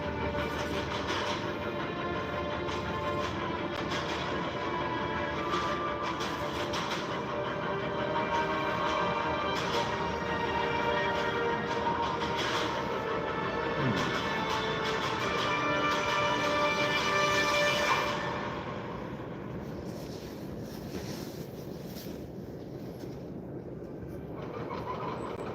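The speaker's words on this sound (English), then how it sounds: "Hear the train? There's a train. You hear that train, yeah?" A train rolls past with a steady broad rumble and rattling wheels on the rail for about eighteen seconds, then the noise drops off to a quieter, fading roll.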